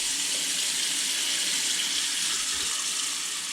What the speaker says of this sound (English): one thing I always like to do with the sink, just to make sure that the drain is completely sealed, is to fill it up